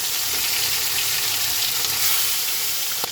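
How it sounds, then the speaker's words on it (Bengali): Rohu fish pieces fry in hot mustard oil in a wok, giving a loud, continuous, steady sizzle with a brief clink near the end and no talking. "আমি এবার মাছগুলো ভেজে নেবো"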